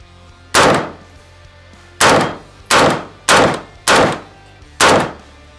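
Gold-plated AK firing at a ballistic plate outdoors, six loud, sharp single shots spaced irregularly about a second apart, each with a short decaying tail.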